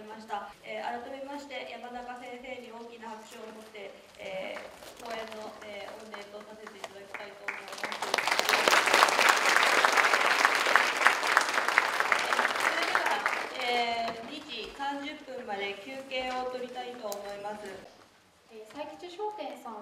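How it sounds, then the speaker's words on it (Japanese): A symposium audience breaks into loud applause for a lecturer, the clapping swelling midway and fading, with someone speaking before and after it. "改めまして山中先生に大きな拍手を持って"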